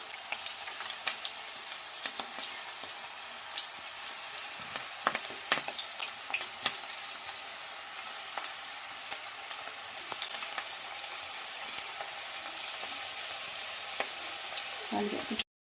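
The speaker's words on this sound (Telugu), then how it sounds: "ఆయిల్ హీట్ అయింది. కలిపి ఉంచుకున్న క్యాబేజీ మిశ్రమాన్ని ఈ విధంగా పకోడీలాగా వేసుకోవాలి." Cabbage pakoda batter fries in hot oil over a medium-low gas flame, a continuous crackling sizzle with scattered sharp pops and occasional stirring, close and fairly quiet.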